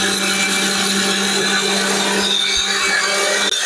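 A high-power blender machine runs loud and close, a constant droning motor whine that holds steady from start to finish, with a few rough rattles near the end.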